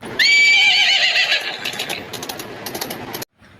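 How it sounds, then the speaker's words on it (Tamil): A female country-breed horse (mare) whinnies loudly and close, a long shaky neigh that tapers off over about three seconds, followed by a sudden cut to near silence. "இது வந்து பெண் குதிரைங்க"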